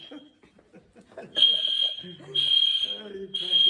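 A fire alarm in a church sounds in long, loud, piercing high beeps, three repeated pulses, with people talking and laughing nearby.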